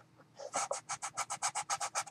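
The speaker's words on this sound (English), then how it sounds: "I'm going to sand this a little bit" Rhythmic back-and-forth rasping as a wooden shoe box trim is sanded by hand, about a dozen even strokes close up, alone without talk.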